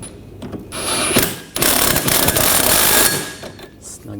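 A hand ratchet clicks in bursts while snugging the rear sway bar link bolts on a 2014–2020 Nissan Rogue, the sharp pawl chatter loud and close, with some brief talk alongside.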